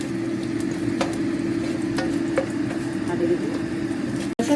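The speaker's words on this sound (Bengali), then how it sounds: "তারপরে রসুন ব্রাউন করে নিচ্ছি।" Garlic browns in a few spoonfuls of oil in a pan for a mushroom and dry fish dish, a steady low sizzle with occasional light crackles and spatter pops throughout.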